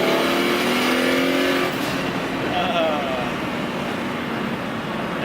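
A BMW 335i with an N54 engine upgraded to a single turbo pulls hard in third gear from about 3,000 RPM, its rising engine note fading off after a couple of seconds, heard from inside the car.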